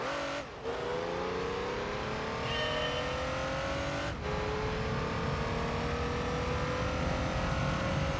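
A race car in the video game Gran Turismo 3 driving flat out during a license test, its engine screaming at high revs with steady rising pitch and two brief gear-change dips, loud and continuous.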